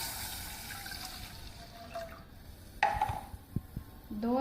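Water is poured into a pot to make syrup for semolina halwa, a quiet splashing and trickling with a few brief clinks from the pot.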